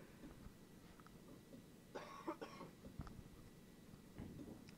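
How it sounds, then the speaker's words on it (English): A faint cough, a short cluster of two or three throat bursts, sounds over a low steady background rumble during a Train Simulator 2018 session on a laptop, on a North Wales route. "That was cough again."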